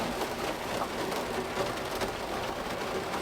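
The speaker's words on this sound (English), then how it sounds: "Well, we got rained out again." Steady rain pours outdoors over a muddy excavation site where a mini excavator and skid steer work, forming a continuous even hiss with no break, fairly soft and alone without talk.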